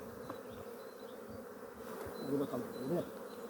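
Honeybees and drones drone steadily around an opened multi-storey hive, and the buzz swells as individual bees pass close to the microphone.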